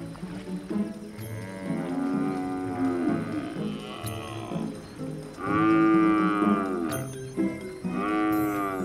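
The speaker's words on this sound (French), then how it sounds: "Ces vaches n'aiment pas être stressées." Cattle on a farm in Kenya moo several times, with long, deep, close calls that follow one another with short breaks, and no other sound is heard.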